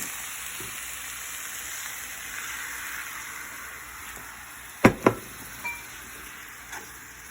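Beef and broccoli sizzle steadily in a skillet under a thick sauce, a soft continuous hiss broken near the end by a few sharp scrapes and knocks of a utensil stirring against the pan.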